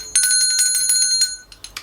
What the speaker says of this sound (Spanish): la campana filosófica